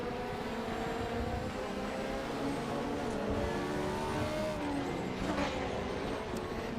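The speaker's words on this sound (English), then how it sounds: "this is a Judd V8 by the sounds of things" Judd V8 race car engine in RaceRoom Racing Experience at Bilster Berg, a steady, loud, continuous drone with rising and falling revs and no voices over it.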